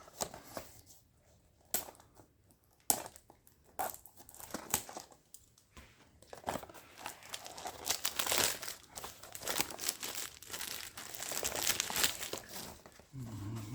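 A Spicebomb perfume box bought on eBay is opened and unwrapped, giving close, quiet crinkling and crumpling of packaging in irregular bursts that grow busier toward the end.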